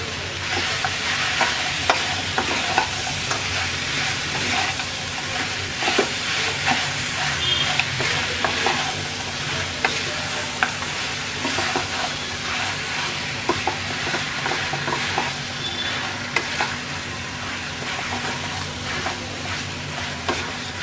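Chalta fruit pickle with jaggery is stirred in a hot pan, a steady bubbling sizzle with soft scraping of the spoon running continuously and fairly loud throughout.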